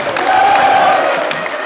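An audience at a political gathering in Rohtak breaks into sustained applause, a dense wash of clapping with a faint crowd murmur underneath that holds steady for under two seconds.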